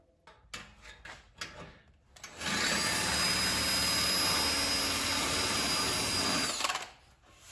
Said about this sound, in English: Dale's got the holes drilled